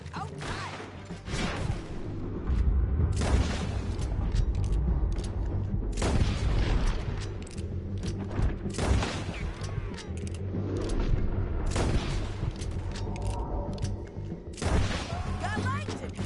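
Repeated gunfire rings out in Red Dead Redemption 2, a shootout of sharp cracking shots and booms in irregular bursts, loud and close, with voices talking between and over the shots.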